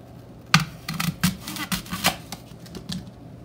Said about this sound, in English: Now to cut open the Honeycrisp.